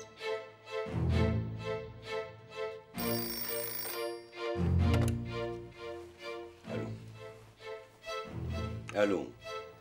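A telephone rings repeatedly in a domestic scene from an Arabic TV drama, with clear bursts repeating in a regular rhythm and a voice speaking between them.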